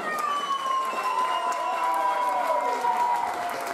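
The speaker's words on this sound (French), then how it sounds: "on les applaudit très très fort" A crowd at a regional beauty pageant applauds and cheers the candidates, clapping mixed with high excited shouts and whoops over music, moderately loud throughout.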